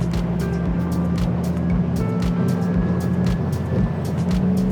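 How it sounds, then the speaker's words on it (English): Viggo C8 aluminium powerboat driven by a Mercury V8 300hp Verado outboard, a loud steady engine roar with rushing water and rhythmic hull slaps as it runs under power, no talk over it. "this is powered by Mercury's latest V8 300 horsepower Verado, which is a superbly responsive engine"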